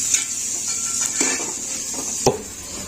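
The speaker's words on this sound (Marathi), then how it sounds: "आता छान पनीर ह्याच्यामध्ये परतून घेत आहे कांद्यामध्ये असे" Paneer cubes and onions sautéed in a pan for veg paneer rice: a spatula clatters and scrapes against the metal over a soft sizzle, with a sharp knock near the end and no talking.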